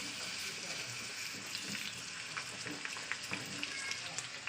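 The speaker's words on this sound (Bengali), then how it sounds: "আলু আর পেঁপে একসঙ্গে ভাজা করে নিলাম" Potatoes and papaya fry together in oil in a pan, giving a faint, continuous sizzle with small crackling pops throughout.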